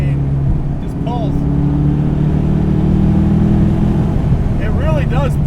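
LS3 V8-swapped 2016 Mazda MX-5 Miata pulling hard in 4th gear, a loud steady low engine drone inside the cabin with a couple of rising tonal sweeps, while a person talks over it.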